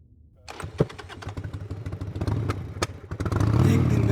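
A motorcycle rides past close by, its engine droning with clattering thumps, then building louder and fuller toward the end as it accelerates.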